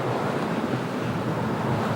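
Strong wind of about 25 knots and breaking waves surround a sailboat in the middle of the Atlantic Ocean, a loud, steady, unbroken rushing roar.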